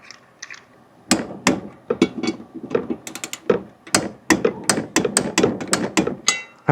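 A torque wrench tightens the blade on an EGO lawn mower, giving sharp metallic ratchet clicks and taps in irregular clusters, loud and close with short pauses between.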